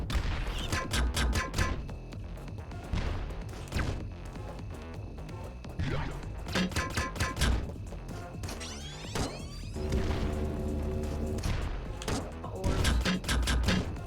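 Rapid bursts of gunfire from Environmental Station Alpha crackle in loud, clustered volleys, broken by short pauses and crashes, with little talk over them.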